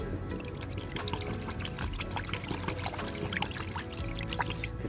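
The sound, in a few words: pouring contact insecticide into water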